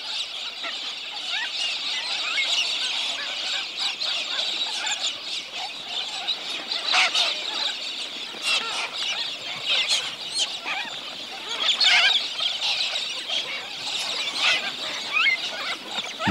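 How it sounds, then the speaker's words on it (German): Hundreds of thirsty pink cockatoos, galahs, crowd around a water tank at an outback waterhole in the evening, a dense, continuous chorus of shrill screeching calls with sharper individual squawks popping out. "Hunderte durstiger rosa Kakadus drängeln am Wasser."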